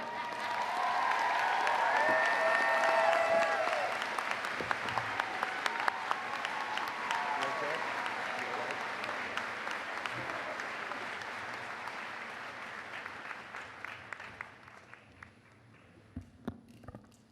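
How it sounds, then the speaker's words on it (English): Sustained audience applause at a college commencement ceremony, a dense crowd clapping loudly at first and then gradually thinning and fading toward the end. "Can we give Jess one more round of applause?"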